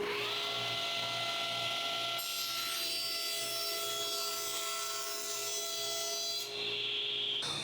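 A table saw cuts wood for a push stick with a steady, high-pitched whining drone and a bright cutting rasp that changes partway through, loud and close with no talking.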